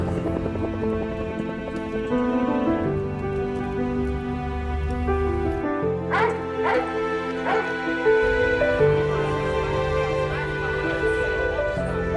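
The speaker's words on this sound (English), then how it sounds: "Rescue dogs on the scene right now." Rescue dogs work at a collapsed building, with steady yips and whimpering woofs over a dense, continuous background of rumbling activity, the barking fairly loud and persistent throughout.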